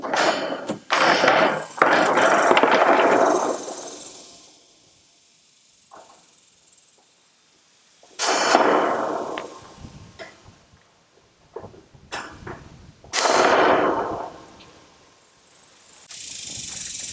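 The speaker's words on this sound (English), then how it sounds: "So I'm going to use the bolt cutters to do that, since I only have a few cuts to make." Bolt cutters notch the corners of a steel cattle panel outdoors in a yard, giving several separate sharp metallic snaps and crunches with quiet gaps between them.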